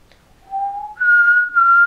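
Someone whistles a short two-part tune: a softer lower note, then a louder, higher note held with a brief break.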